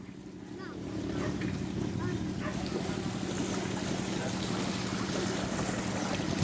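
A steady engine drone from boats arriving on open water runs throughout along with wind and wave noise, with people talking faintly in the background.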